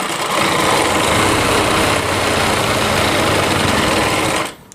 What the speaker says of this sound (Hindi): यहाँ से ये जो लेस लगी हुई इसके ऊपर हमें सिलाई लगाते हुए पूरे में सिलाई लगा देनी है